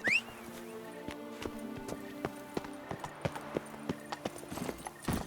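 Roach the horse trots in The Witcher 3 with a steady, close run of clip-clopping hooves, alone apart from faint ambient game sound.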